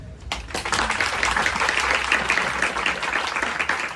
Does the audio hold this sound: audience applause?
yes